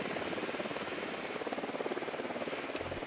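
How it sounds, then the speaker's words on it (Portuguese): A helicopter in the video game Ghost Recon Wildlands drones steadily with a rapid rotor flutter, a constant mid-distance beat throughout with no talk. "Helicóptero, abaixe-se."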